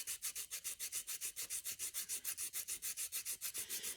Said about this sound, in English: I just take that rounded edge and I just start, you just polish all of the file marks off.